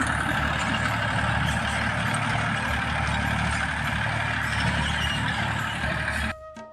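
Tractor engine running steadily while working a dusty farm field, a continuous loud diesel drone with a low throbbing rumble that cuts out abruptly near the end.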